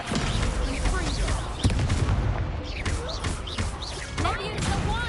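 Spell effects in Hogwarts Legacy, including the Confringo fire spell, burst as a run of loud booming blasts and crackling impacts over game music, with a voice shouting spell names.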